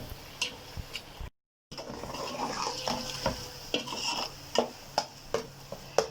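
Spoon stirring and sautéing spice masala in a pan for shahi stuffed eggplant, with scraping knocks and clinks against the pot over a light sizzle, repeated at an irregular pace, brief pause midway.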